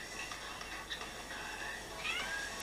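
A cat meows a few times, faint and a little distant, with short drawn-out cries over a steady background hiss.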